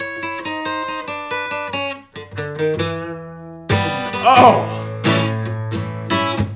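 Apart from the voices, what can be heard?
acoustic guitar blues turnaround lick in A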